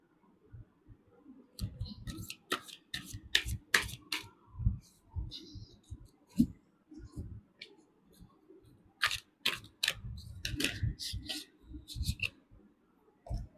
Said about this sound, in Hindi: मेरे शफलिंग के दौरान कार्ड्स बहुत पुल आउट होते हैं, बहुत बाहर आने की कोशिश करते हैं।